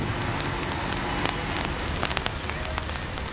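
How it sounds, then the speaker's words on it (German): Rain falls steadily in Washington, a close, dense patter with scattered sharper drops, while people talk briefly over it. "Es regnet, ne?"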